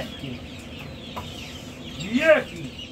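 Chickens cluck in a crowded coop shared with ducks, a low continuous murmur of fowl with one louder squawk near the end.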